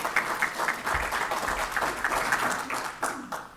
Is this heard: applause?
yes